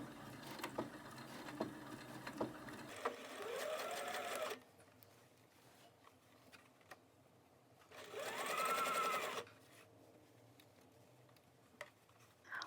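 A domestic sewing machine stitches a sleeve into the armhole in two steady whirring bursts separated by a quiet pause, with faint ticks and handling sounds between runs.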